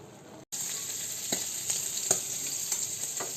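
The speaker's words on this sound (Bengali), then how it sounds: "ঢাকনাটা উঠিয়ে একটু নাড়াচাড়া করে দিতে হবে" Bhuna khichuri rice stirred in a pot after the lid comes off, giving a steady bright sizzle with a few soft scraping stirs and light knocks, close up and without speech.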